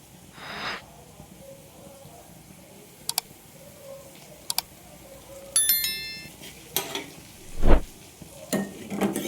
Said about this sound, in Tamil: இப்போது எண்ணெய் சூடாகிடுச்சு. நம்ம சீரகம் சேர்த்திக்கலாம்.